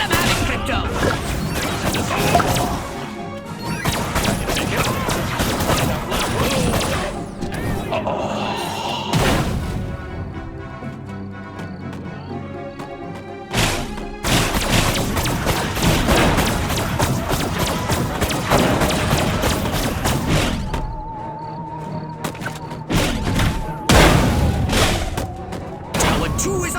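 In the video game Destroy All Humans!, gunfire and explosions hit a tower, with dense rapid shots and heavy crashes in loud bursts and a brief lull midway. Game music plays underneath.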